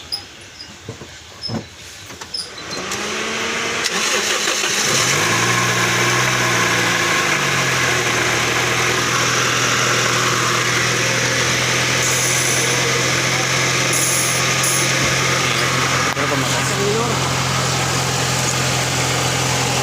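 A Toyota Vios engine with a newly replaced bearing cranks and catches after a few seconds of clatter, then settles into a steady, loud idle with a constant hum.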